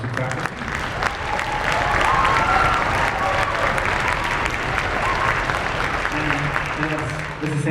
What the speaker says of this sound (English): Round of applause for our music faculty.